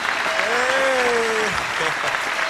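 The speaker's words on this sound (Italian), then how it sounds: "fate ancora un applauso che è gratis" A studio audience at an Italian television variety show claps steadily and fairly loudly, while a voice carries over the dense applause with a rising, sung or whistled tone.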